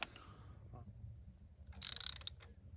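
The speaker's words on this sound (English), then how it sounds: "going to use the ratchet to tighten it basic" A ratchet tightens a spark plug on a Lexus GS 300h's 2.5-litre four-cylinder 2AR-FSE engine, giving a short burst of quick, close clicks near the end after a stretch of quiet handling.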